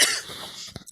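A single short cough near the end, brief and close, following a stretch of soft hiss with no talking.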